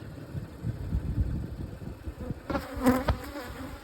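A steady low buzz of honey bees in an open hive during winter preparation fills the clip, many bees humming close by, with a few louder rustling bumps near the end.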